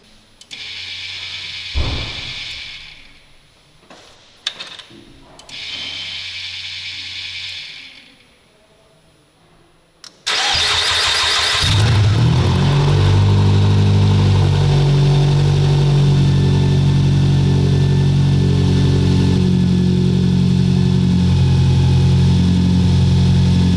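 A Nissan X-Trail engine that had been misfiring, with freshly cleaned injectors, is started: after a few quieter clunks it cranks and catches abruptly, then settles into a loud, steady, close-up idle.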